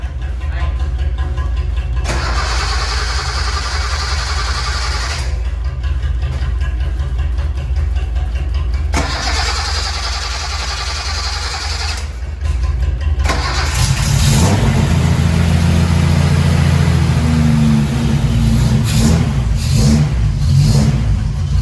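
A classic Nissan car engine cranks and starts several times, then fires up and revs in rising, throaty bursts before settling into a loud, close idle, with no talk.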